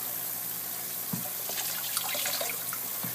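Water runs steadily from a tap onto a dental impression tray being cleaned, a continuous close splash with a few brief louder knocks and clatters from the tray in the stream.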